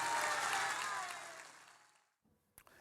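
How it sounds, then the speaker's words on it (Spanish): Studio applause on a news broadcast, a burst of clapping that starts full and fades out over about two seconds, followed by near silence and a brief faint knock. "Así que le vamos a mandar un caluroso aplauso."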